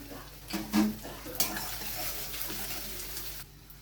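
Grated ginger and chopped green chillies go into hot oil with spices for a palak prawn curry, giving a low steady sizzle with a few stirring clinks near the start, heard close and alone.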